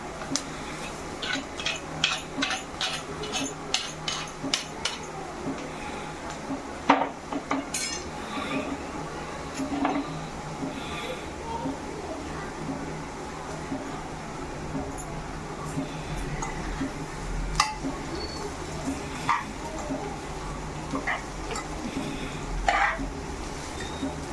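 Vermicelli (semiya) roasts in a pan as a utensil stirs it, with repeated light metallic clinks and scrapes over a low constant sizzle and kitchen background, fairly close and moderately quiet throughout.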